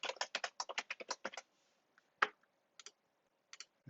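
Quiet, close typing on a computer keyboard: a quick burst of key clicks, then a pause and a few scattered single taps.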